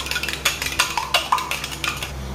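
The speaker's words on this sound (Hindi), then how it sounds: "तो इसमें मैंने अंडे तोड़ लिए हैं और नमक वमक मिला लिया है, तो इसको फेंट लेते हैं पहले।" Eggs mixed with salt being beaten in a bowl, a quick run of sharp, close clinks and taps of utensil against the dish, uneven rhythm with short pauses, no voices.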